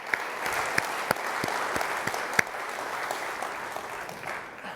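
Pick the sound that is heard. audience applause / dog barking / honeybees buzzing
audience applause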